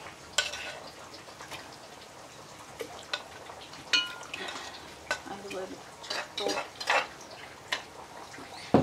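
Sausage frying in a little oil in a pan sizzles faintly, with scattered pops and spatters and occasional utensil scrapes and clinks against the pan, quiet and close.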